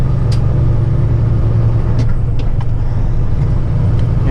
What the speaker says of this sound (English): It takes forever to accelerate with this thing, you know, because I gotta start in low gear, like low 1.